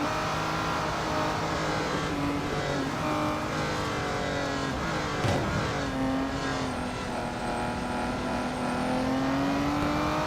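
Race car engine in the Real Racing 3 video game, a continuous high-revving whine held steady down a straight with rising and falling pitch as gears change, loud and without speech.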